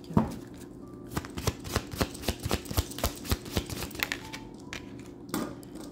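Tarot cards are shuffled and drawn in a quiet room, giving a series of close, crisp riffling snaps and taps at an uneven rhythm. There is no talk.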